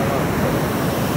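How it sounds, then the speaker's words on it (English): A Swiss waterfall roaring close by, a dense, steady wash of falling water that fills the whole clip without a break. "This is a real Swiss waterfall."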